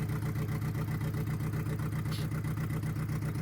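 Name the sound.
car engine idling at about 900 to 1,000 RPM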